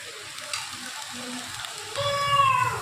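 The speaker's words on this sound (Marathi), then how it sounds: "असे आपण फ्राय करून घेऊया आपलं तेल असं सुटत आले चांगलं फ्राय करूया" Red chili powder and turmeric fry in oil with a soft, close sizzle that swells louder toward the end, joined by faint scraping.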